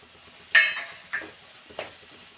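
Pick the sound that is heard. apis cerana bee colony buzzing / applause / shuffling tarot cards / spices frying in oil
spices frying in oil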